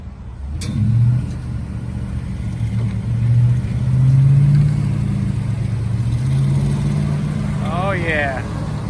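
A truck engine revs and strains while pulling another stuck truck out of mud after Hurricane Helene, a steady mid-range rumble swelling and easing under intermittent talk.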